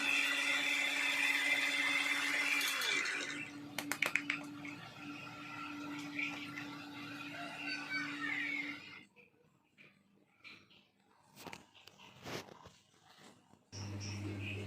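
A mixer grinder whirs loudly as it grinds spices, running for several seconds before stopping, then followed by quieter handling clatter and a brief restart near the end.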